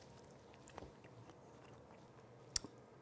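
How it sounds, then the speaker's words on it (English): Close, quiet bites and chewing of an all-beef bacon cheeseburger bratwurst stuffed with bacon, cheese and onions, with a few soft crunchy snaps and one sharper bite near the end, no talking. "the first thing I need to taste is the sausage by itself"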